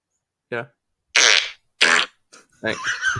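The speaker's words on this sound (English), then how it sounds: "Glad we're down to fart humor now." Several separate fart sound effects play in quick succession on a podcast, short bursts of varying length, loud and close, with no speech over them.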